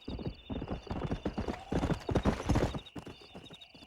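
A stallion's hooves clip-clop in a steady walking rhythm in the Red Dead Redemption video game, close and clear, with a brief whinny-like sound and faint game ambience.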